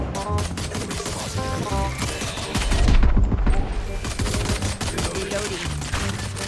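Rapid gunfire in the shooter game Valorant rattles in dense, repeated bursts, with a heavier volley midway and game effects throughout.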